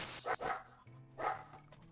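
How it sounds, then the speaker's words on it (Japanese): A dog barks twice over a crackly, low-quality game voice chat, with two short bursts of sharp barking and a brief pause between them. "おいてめんちの犬だろそれ"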